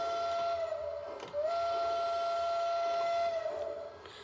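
A Lionel LionChief 2-4-2 steam locomotive toy train sounds its horn, a sustained whistle tone that breaks briefly, resumes and holds for several seconds over faint mechanical hum.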